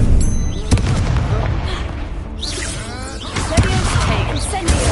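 A fire spell cast in a Harry Potter video game, heard as booming, crackling bursts in a dense wash of game sound, with voices speaking over the effects.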